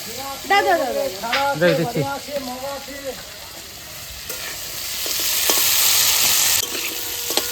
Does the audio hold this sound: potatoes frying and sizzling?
yes